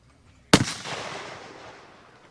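A single shotgun shot at a trap shoot, one sharp loud outdoor blast that rings and decays for over a second.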